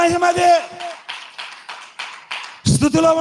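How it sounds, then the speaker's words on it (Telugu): A burst of rhythmic hand claps, several in a steady beat, between stretches of a person speaking loudly during a Christian worship service. "చప్పట్లు కొడదాం గట్టిగా."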